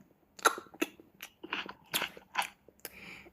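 Someone bites and chews bread close to the ear, making a few crisp crunches followed by softer chewing sounds, with no talking.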